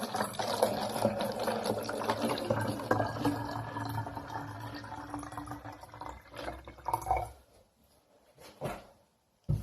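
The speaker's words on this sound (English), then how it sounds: "you're going to fill it up part way with water." Water poured from a tap into a clear apple juice bottle, filling it part way for a kids' science experiment; a steady running, splashing flow lasts several seconds, then thins to brief trickles and stops.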